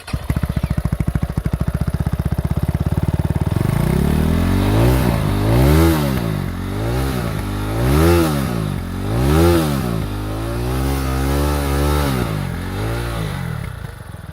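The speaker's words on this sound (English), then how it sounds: "So now let's start the vehicle and listen to the exhaust note." FB Mondial HPS 300 motorcycle starting up with a cranking clatter, then settling into a loud, close single-cylinder exhaust note with several rhythmic throttle blips rising and falling before easing back toward idle.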